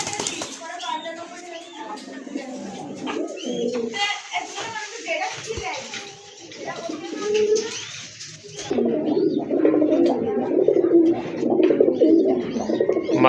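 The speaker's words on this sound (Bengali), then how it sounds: "খুবই চমৎকার কিন্তু দেখার মতো কবুতর, গড়রা কবুতর" Pigeons cooing close by in a bird-selling setting, repeated throaty coos mixed with other bird calls and children's voices in the background, louder and denser toward the end.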